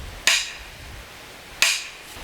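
Two sharp, ringing metallic strikes of a steel hammer on an axe handle during removal from a Husqvarna 26-inch forest axe, each blow clear and close with a short decaying ring, spaced about a second and a half apart.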